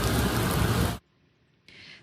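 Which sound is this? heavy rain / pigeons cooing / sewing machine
heavy rain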